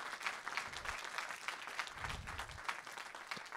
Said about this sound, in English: Give yourself a round of applause. Clap for yourselves.